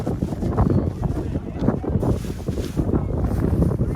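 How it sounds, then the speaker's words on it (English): Strong wind buffets the microphone in a continuous roar, gusting unevenly throughout. "it's so windy"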